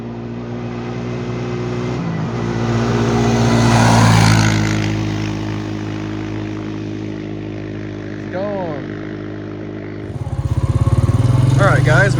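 A Honda Rancher 350 ATV engine runs close by with a steady droning hum, rising into a louder rev partway through and surging again at the end, with a brief voice in between.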